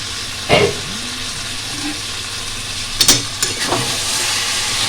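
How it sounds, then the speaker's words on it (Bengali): Prawns and spinach sizzling steadily in a pan once the lid comes off, with a few brief scraping stirs breaking through the constant frying hiss. "ঢাকনা খুলে 2-3 বার নাড়িয়ে দিয়েছি।"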